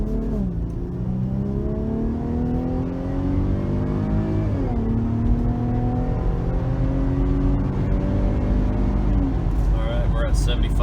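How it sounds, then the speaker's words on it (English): Cabin drone of a Jeep Grand Cherokee 3.6L fitted with an AFE Power catback exhaust, cruising at highway speed with windows closed; a steady engine hum with shifting tones, plus road and wind noise throughout. "it's definitely louder than the stock exhaust"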